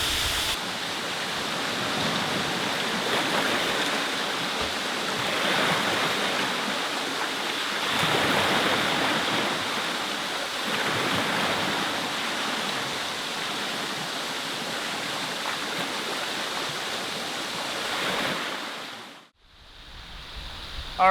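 Steady roar of a waterfall at a remote camping spot, dense rushing water noise that is loud and constant before cutting out abruptly near the end.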